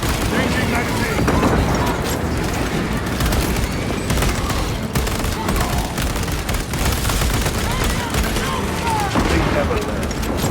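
Warhammer Space Marine 2 combat: dense, sustained gunfire with booming blasts, including a frag grenade explosion. The battle noise is loud and continuous throughout, with in-game voices shouting over it.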